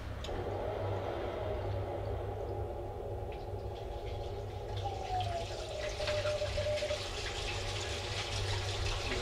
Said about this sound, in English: You hear the water? What the hell?